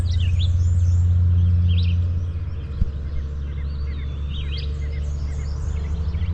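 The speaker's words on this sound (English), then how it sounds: "The birds singing." Birds chirp and sing outdoors at a riverside campsite in Matewan, West Virginia, many small calls scattered near and far over a steady low rumble, with a brief thump near the middle.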